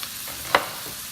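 Chopped onions fry in a pan over medium heat while being stirred, a soft steady sizzle broken by one sharp scrape of the utensil midway, close and brief with no talking.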